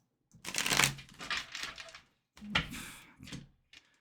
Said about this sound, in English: I just want to give them one quick shuffle.